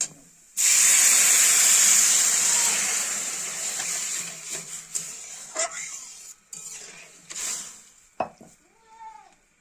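Water poured into a hot kadai of oil-fried mung beans bursts into a loud steaming hiss that slowly fades, followed by a few metal clinks and stirring scrapes.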